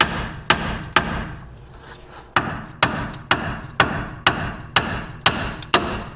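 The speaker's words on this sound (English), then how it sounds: "With any luck, a few hits will loosen it up, but probably not." Repeated hammer strikes on the steering knuckle of a 2007-2013 GMC Sierra or Chevrolet Silverado to pop the lower ball joint loose, about a dozen sharp metallic hits at a steady rhythm, close and loud, with one short pause.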